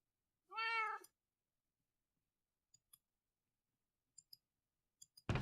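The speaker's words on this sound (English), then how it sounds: "let's summon another kitty" A kitten in the video game Atonement gives one clear, drawn-out meow, followed by a few sparse, quiet mouse clicks in near silence.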